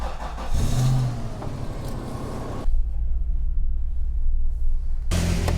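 A Triumph Dolomite classic car cranks without starting, a loud close churning engine-turnover drone that cuts to a low hum before a second burst of cranking.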